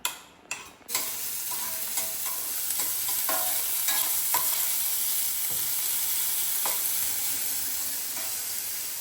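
Chopped big onions hit hot oil for tempering in a pan, with a few sharp clatters at the start, then a bright, steady sizzle and occasional stirring scrapes, close up.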